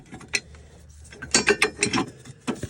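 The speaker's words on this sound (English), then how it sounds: "next we're gonna tighten up these bolts right here" A hand ratchet tightening bolts on a car transmission, rapid clicking pawl strokes in several quick bursts, close and fairly loud with short pauses between pulls.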